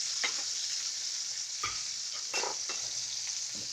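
Garlic cloves sizzle in a pan alongside pork chops, a soft continuous hiss broken by a few brief crackles and stirring scrapes, quiet and close, with no talking.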